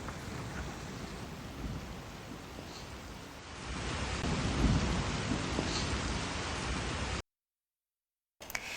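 Heavy rain with gusting wind roars continuously during a storm in Kabardino-Balkaria, swelling louder midway, then cutting to silence before briefly returning.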